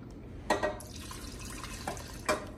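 Water poured into a mixing bowl for a mac and cheese burger recipe, heard as a few short splashy drips and trickles spaced out over a quiet kitchen background, with no talking.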